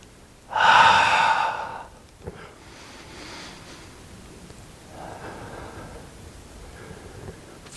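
A person practising tai chi walking for balance takes one strong, close breath, followed by softer, slower breathing with faint rustling and no talk.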